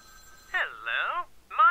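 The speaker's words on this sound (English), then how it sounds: "except for this ringing telephone" A telephone rings in the video game Vampire: The Masquerade Bloodlines: one long warbling ring burst, a brief gap, then the start of another, close and clear with no talk.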